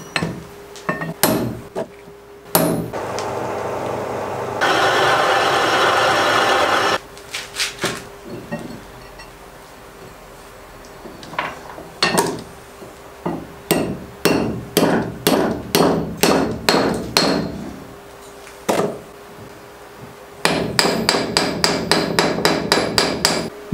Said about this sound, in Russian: Точим два штифта, чтобы зашли с натягом. Вот, забиваем.